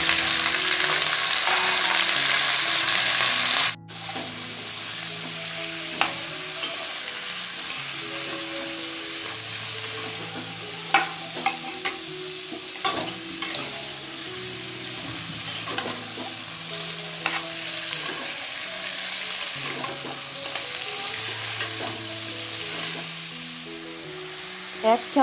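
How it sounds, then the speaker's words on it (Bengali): Potatoes and browned onions sizzle steadily in a hot pan for a Bengali egg, potato and poppy seed dish, with scraping stirs and clatters throughout over soft background music. "এবার আলুটাকেও ভালো করে নেড়ে চেড়ে লাল লাল করে ভেজে নেব"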